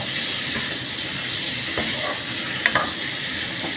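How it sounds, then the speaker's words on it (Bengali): Chicken pieces frying in a pan, a steady close sizzle and hiss with occasional stirring scrapes and clinks, no talking over it. "চিকেনটা যখন ভাজা ভাজা হচ্ছে"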